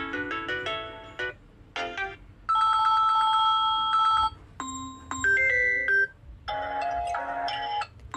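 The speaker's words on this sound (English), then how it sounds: "Then if you want to set for WhatsApp call ringtone" Several WhatsApp call ringtones preview one after another on a phone, each a short electronic melody or chime separated by brief gaps, clear and fairly quiet.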